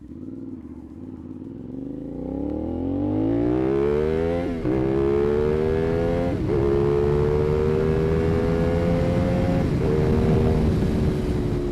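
A CFMOTO 450SS motorcycle fitted with an IXIL exhaust pulls hard through the gears, its deep, loud engine note rising in pitch with each climb and dropping briefly at shifts, close and continuous throughout.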